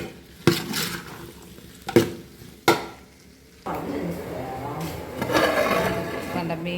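Ingredients being sautéed until reddish in a pan for a simple lentil parippu curry: three sharp spatula knocks, then a sustained sizzling fry with softer stirring scrapes.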